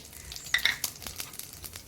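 Whole cumin seeds and bay leaves hit hot oil in a pan, giving a close, crackling sizzle with sharp pops early on that settle into lighter spitting.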